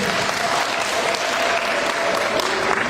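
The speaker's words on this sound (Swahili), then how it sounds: "tuwapigie makofi mengi sana walimu." An audience applauds teachers at a parents' gathering, with dense, steady clapping filling the space from start to finish.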